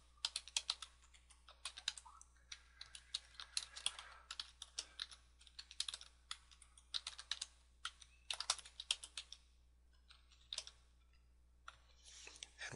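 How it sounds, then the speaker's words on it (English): Fingers type on a computer keyboard in quick, uneven bursts of soft clicks, with short pauses between runs of keystrokes. "let's type in something else like"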